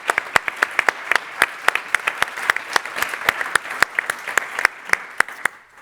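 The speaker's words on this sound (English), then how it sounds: "Let's give them a round of applause." An audience at a talk on the circular economy and climate gives a round of applause for the event crew, a brisk run of sharp claps from a modest crowd, fairly close, tapering off at the end.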